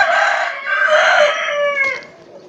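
A rare-breed rooster crows once, loud and close, in a long drawn-out call that slowly tails off, with faint clucking around it in a poultry breeding collection.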